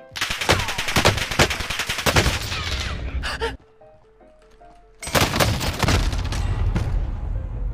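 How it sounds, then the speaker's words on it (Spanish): Grenade blast and heavy gunfire in a shooter video game: dense rapid bursts of automatic fire, a sharp boom, a brief lull with a few soft tones, then loud sustained firing resumes. "tiré una granada para adelante, amigo"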